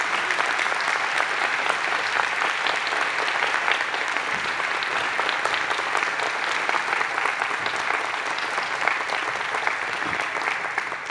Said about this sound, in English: give them a round of applause for their years of service